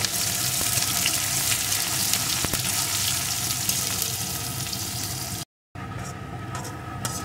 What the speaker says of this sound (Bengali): পেঁয়াজ কুচিটাও একটু ভেজে নিয়েছি।